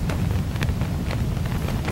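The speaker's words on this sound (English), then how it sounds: "This wind doesn't die down" Steady wind roars across a Moroccan desert glamping camp, a dense low rumble filling the whole stretch with small gusty surges and no pause.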